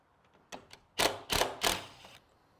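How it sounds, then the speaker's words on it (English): A Torx security bit backs out screws from a sliding French door panel in a few short mechanical ratcheting bursts, close and fairly faint, with small clicks between them. "you're going to have to use the Torx bit that's got the little hole for the security screws, and my partner's going to go ahead and take those screws out."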